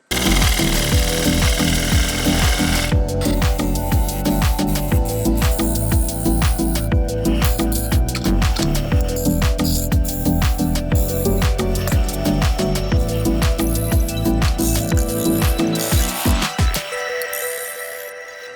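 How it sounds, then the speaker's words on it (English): Loud, continuous roar of a wood lathe hollowing out a cracked, bug-infested log, with rhythmic chattering cuts and grinding tool noise throughout, winding down near the end as the machine slows. "The hollowing process takes a long time."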